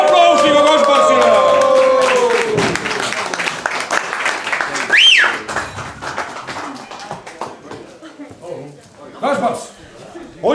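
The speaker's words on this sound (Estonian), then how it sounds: "Aplausiga Kasparsile!" Party guests at a fiftieth birthday celebration clap and cheer after a loud voice calls out, the applause mixing with laughter and chatter before fading into scattered claps.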